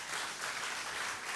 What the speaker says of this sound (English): Can you give 10 claps for P2A?